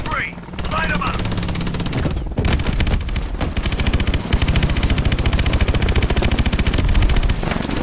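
Rapid automatic gunfire from a machine gun in a Call of Duty: Advanced Warfare campaign battle, dense bursts of loud shots hammering almost continuously with a few brief gaps, a helicopter-like drone underneath and voices speaking over it.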